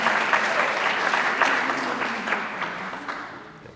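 Applause rises from the crowd at an Indigenous student graduation ceremony as a nursing graduate is honoured, dense clapping that slowly fades over a few seconds.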